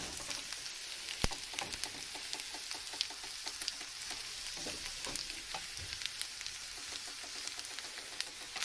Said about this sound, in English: Just keep cooking this, stirring until you've incorporated all the oil